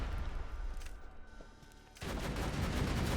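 A turret in the Borderlands 2 video game fires at enemies in bursts of rapid gunfire. The shots are lighter at first, then swell into a dense, sustained barrage for the second half.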